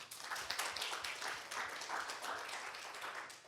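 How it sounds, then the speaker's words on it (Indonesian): Congregation clapping together during an online Indonesian church service, a dense steady burst of many hands lasting several seconds with no voices over it. "Tepuk tangan buat Tuhan, saudara"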